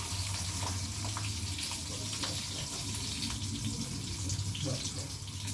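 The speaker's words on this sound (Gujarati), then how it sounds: "બસ બસ પાણી નાખું થોડું." Water poured into a pan of stuffed green chillies cooking on the stove, a steady continuous splashing and hiss that runs through the whole stretch without talk.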